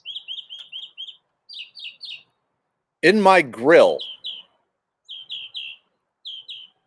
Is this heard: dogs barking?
no